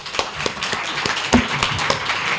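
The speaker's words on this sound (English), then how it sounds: "I just want another round of applause for you" Audience at a launch presentation breaking into a brief round of applause, dense clapping with a few louder claps near the front, fairly close and continuous.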